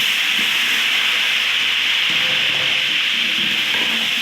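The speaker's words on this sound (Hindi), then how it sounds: "अब ये मैं चिकन फ्राई करने लगा हूँ।" Marinated chicken frying in hot oil on a stovetop, a dense, constant sizzle and hiss that holds steady and loud throughout, with faint clatter underneath.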